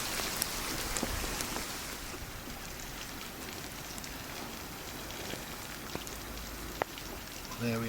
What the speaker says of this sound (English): It would start raining now